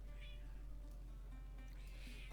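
A cat gives a couple of short, soft meows, one near the start and another near the end, fairly faint over a steady low background hum.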